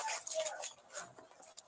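Puppy whimpering in a house, thin high whines and squeaks coming in short bursts, faint and fairly close, with a voice briefly present nearby.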